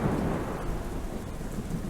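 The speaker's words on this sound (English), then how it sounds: "There was a loud crash of thunder before I could finish my thought." Thunder crashes and rumbles loudly through a steady downpour of rain, the storm filling the whole stretch evenly without any voices.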